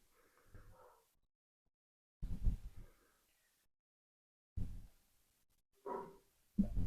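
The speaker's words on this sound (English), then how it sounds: "They're barking at my son's dog." Several dogs bark in short bursts, loud and close, separated by quiet gaps, with a last sharp bark at the end.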